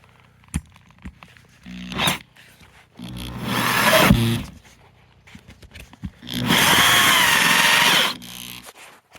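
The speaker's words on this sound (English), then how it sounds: "Thinking I'm going to just fire up the generator and use my power drill." A power drill runs from a gasoline generator in several bursts, whining up to full speed for a second or two at a time, close and loud, with clicks and handling noise between runs.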